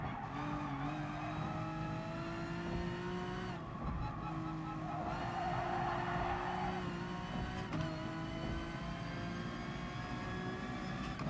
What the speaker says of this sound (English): Look how fast that car is compared to this NSX down the straight.